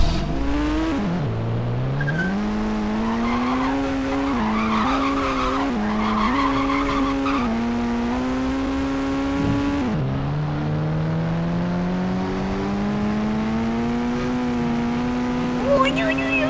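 A car in GTA V starting up and revving, its engine tone climbing and dropping in repeated surges while the tires squeal and skid, loud and continuous, with voices talking over it.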